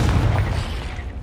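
A spell blast from the Hogwarts Legacy video game lands as a deep, loud rumbling boom that fills the moment and slowly tails off, with no voices over it.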